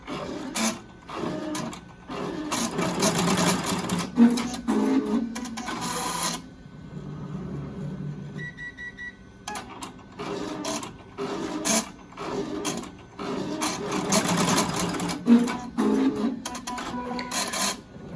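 A Melco embroidery machine stitches tack-downs through fabric on a face mask. It gives a steady, rapid mechanical whirring and clacking that pauses briefly partway through and then resumes at the same pace.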